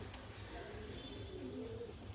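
Pigeons kept for sale at a home coo softly and steadily, a low murmuring call repeating close by against a faint background hum.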